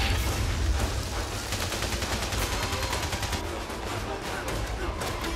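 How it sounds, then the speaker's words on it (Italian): Gunfire in Valiant Hearts, a dense wartime barrage of rapid shots and bursts rolling continuously at close range with low rumbling booms underneath. "siamo attenti ai colpi"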